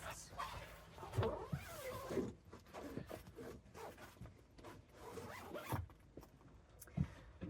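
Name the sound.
closing the windows of a campervan pop-top roof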